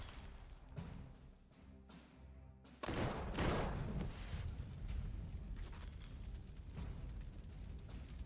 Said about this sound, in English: Let's hit it again with artillery.